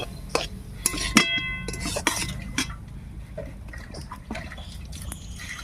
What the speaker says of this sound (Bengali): একদম মানে শুকনো শুকনো করে নেড়ে নেড়ে ভালো করে কষতে হবে।